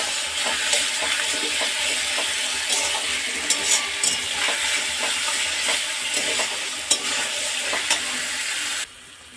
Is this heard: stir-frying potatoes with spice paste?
yes